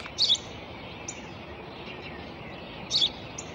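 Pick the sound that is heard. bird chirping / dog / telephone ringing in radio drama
bird chirping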